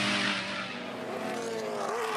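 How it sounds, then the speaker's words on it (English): Ford Mustang race car driven hard down Conrod Straight at Bathurst during the 12 Hour, its engine roaring loud and steady at high revs with tire noise throughout, no voices. "But he's absolutely ragging this Mustang, isn't he?"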